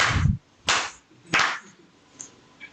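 Three sharp hand claps, spaced roughly evenly and close by, each a crisp single smack with short silence between, followed by a faint tap.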